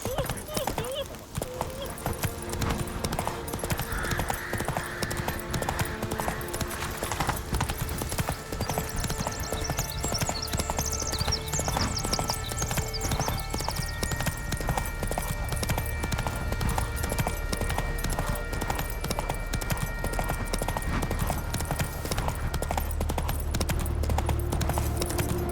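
In The Witcher 3, the horse Roach gallops along in a quick, steady, rhythmic clip-clop of hooves, up close and continuous under game music and ambience.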